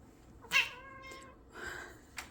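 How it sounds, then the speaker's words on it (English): A frisky house cat lets out two meows, the first a drawn-out, wavering call and the second shorter, with a brief sharp sound at the very end and no talking. "What kind of meow is that?"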